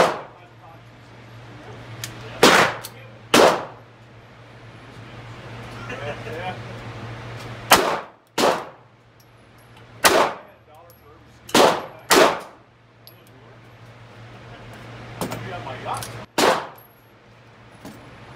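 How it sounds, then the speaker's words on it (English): A Sig P365 pistol fires about nine loud, sharp shots, some in quick pairs and others spaced several seconds apart, each ending in a brief ringing decay over a low steady hum. "This is the 450 to 500 rounds to the Sig P365."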